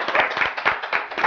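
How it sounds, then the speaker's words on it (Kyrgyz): A show audience claps together for a team contest, producing a short burst of brisk, rhythmic applause with clearly separate hand claps close by. No speech. "кол чаап коелу"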